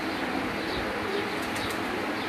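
Pigeons brought from Dubai on a rooftop, a steady wash of soft cooing and rustling with a few brief wing flaps, close and continuous with no talk.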